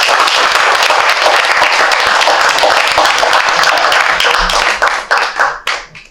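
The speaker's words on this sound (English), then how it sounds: "applause for them." A crowd at a historical society open house gives a big round of applause for the park's trustees and sponsors, dense and loud clapping that holds steady and then tapers off in uneven bursts.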